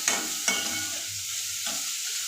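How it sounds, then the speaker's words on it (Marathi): Onion sautés and sizzles in a pan for a Marathi black chickpea chana masala, with a few sharp spoon scrapes as it is stirred over steady frying noise, close and alone. "कांदा चांगला लालसर होतपर्यंत चांगला परतून घ्यायचा नेहमीपेक्षा कांदा थोडा जास्त परतून घ्यायचा"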